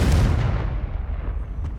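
Confringo spell explosion in the video game Hogwarts Legacy, a single loud booming blast at the start that decays into a rumbling tail over a second or so.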